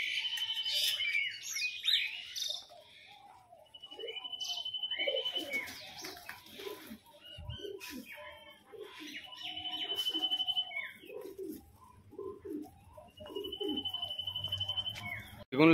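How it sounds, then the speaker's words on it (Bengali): Pigeons in a loft, including red Mushki birds nesting on eggs, coo in repeated low throaty phrases through the whole stretch, with occasional higher chirps and rustling nearby. "মোটামুটি সব পায়রা এইখানে এখন রয়েছে"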